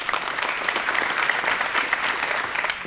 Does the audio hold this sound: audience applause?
yes